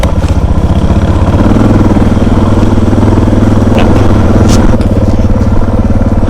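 A Suzuki DR650 single-cylinder motorcycle engine thumps loud and close in a rapid, steady pulse, idling or running at low revs on an off-road adventure ride near river crossings, with no talk over it.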